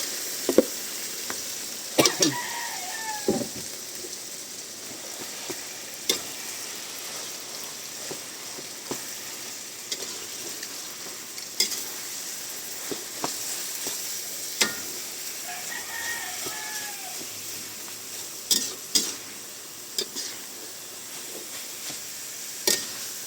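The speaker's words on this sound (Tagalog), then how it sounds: "Igisa nyo pa tuloy-tuloy lang." Ground meat sautés in a pan with a faint continuous sizzle, broken by sharp clinks of a spatula stirring, and a rooster crows twice in the background.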